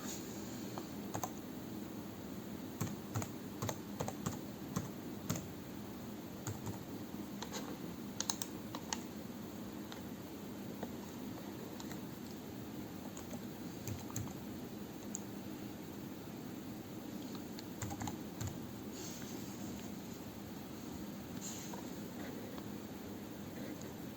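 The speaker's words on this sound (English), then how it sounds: "Type that code in to continue." Keys tapped on a computer keyboard while a verification code is entered during online account setup, a quiet irregular run of soft clicks over faint background hiss.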